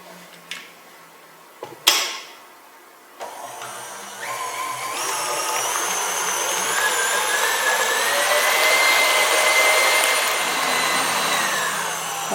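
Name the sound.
electric mixer beating sponge cake batter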